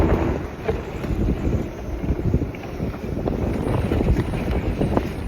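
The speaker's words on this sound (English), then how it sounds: "that wind is good. That wind is really good." Strong wind buffets the microphone on a lake while trolling from a boat in Utah, a loud continuous rushing roar with low gusty rumble and water noise, no voices.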